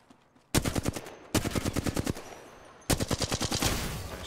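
Rapid automatic gunfire in the video game Apex Legends, coming in three loud, close bursts of evenly spaced shots with short pauses between them.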